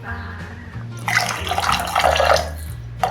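Water is poured into a simmering onion-based gravy for jackfruit kofta, a close splashing trickle that swells and gurgles loudly over a low hum.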